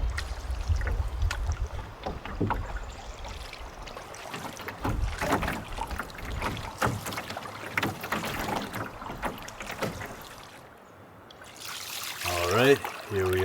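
A boat being paddled on wilderness water, with repeated soft splashes and dribbling strokes in a loose rhythm close by, light wind noise, and a brief voice near the end.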